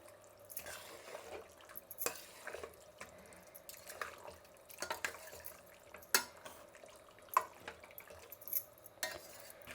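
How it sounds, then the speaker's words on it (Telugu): A spoon stirs and fries mutton masala with poppy seeds and coconut in a pan, giving soft, irregular scrapes and sharp metallic clinks, fairly quiet and close, with no talking. "దీన్ని బాగా కలుపుకొని ఒక 2 నిమిషాలు వేయించుకుందాం."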